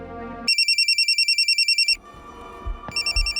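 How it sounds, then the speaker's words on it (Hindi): A mobile phone ringtone rings in bursts of rapid pulsing tones, clear and close, pausing briefly before ringing again. "पंकज का फ़ोन है।"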